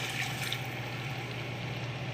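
A bottle of red wine, about two cups, pours into a cooking pot for beef bourguignon, making a steady, continuous close-up splashing stream with no talking.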